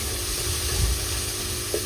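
Onion sautés in a hot pan for chicken afritada, a steady close sizzle with a soft stir scrape partway through and a brief clink near the end.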